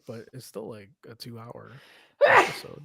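A single loud, close sneeze bursts out right after a person finishes speaking.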